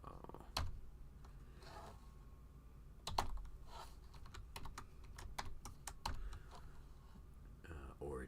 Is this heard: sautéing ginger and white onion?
no